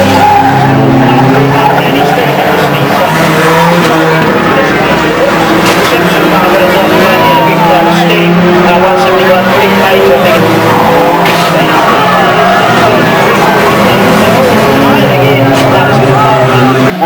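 Stock cars in a banger race skid, crash and pile into a battered car, engines roaring and tires squealing continuously and loudly while a commentator talks over the action.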